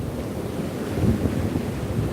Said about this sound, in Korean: 파도 소리는 좋긴 좋은데